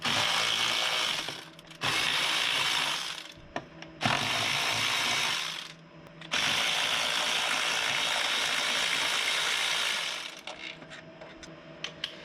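A power tool loosens T30 bolts on a car engine during a DIY carbon cleaning job, whirring in long, loud, close bursts separated by short pauses and small clicks, with no talking.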